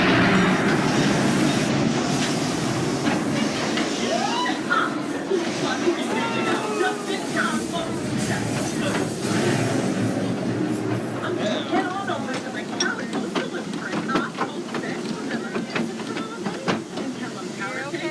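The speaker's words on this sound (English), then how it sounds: "Slow that train down." A tourist train runs on rails through a ghost-town attraction with a steady rumbling roll and hiss, intermittent clicks and clacks, while a voice calls out over it.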